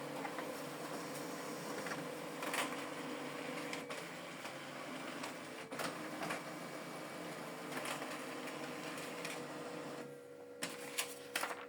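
A Brother MFC-L2800 laser printer runs a two-sided copy job, giving a soft, steady mechanical whir with intermittent clicks and feed clunks, faint and close, with no talking.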